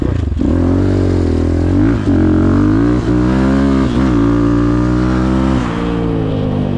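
A GEON GNX 250 motorcycle engine idles and is revved with the throttle several times, giving a loud, close, rumbling drone that rises and dips in pitch with each twist.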